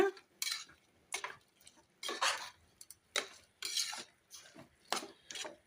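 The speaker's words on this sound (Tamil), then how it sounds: "தயிரையும் சேர்த்து நல்லா கலந்து விட்டுருங்க" Yogurt being mixed into a vegetable biryani base in a pot: a series of about eight distinct spoon scrapes and clinks against metal, evenly paced with short gaps, close and clear, no talking.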